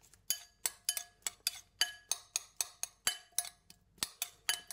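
A metal spoon clinks against a dish again and again while someone eats raw pumpkin, sharp close taps in a steady, slightly uneven rhythm, about fourteen strikes with no talk.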